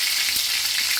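Mushrooms frying plain in hot oil without masala, a steady bright sizzle that stays even and close throughout, with no voices.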